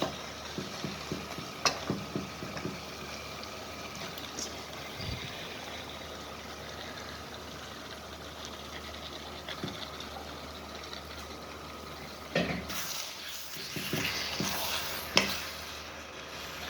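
Washed beef pieces going into spiced oil in a pan for a beef stew, with a low steady sizzle and a few scattered clinks of stirring, growing louder and busier near the end.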